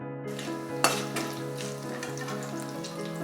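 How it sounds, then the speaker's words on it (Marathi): Mustard seeds, cumin and curry leaves hit hot oil in a kadhai with a sudden loud burst, then settle into a continuous close sizzle over a faint steady hum, with no talking. "परत त्याच कढईमध्ये तेल टाकून त्यामध्ये 1 चमचा मोहरी, 1 चमचा जिरे, कढीपत्ता टाकून घेऊ"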